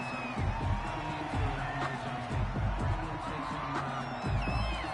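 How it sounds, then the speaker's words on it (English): A home crowd at a football game cheers a call, a dense wash of roaring voices and whoops holding steady at a distance, with a few louder swells rising out of the noise. "This home crowd, they're happy with that call."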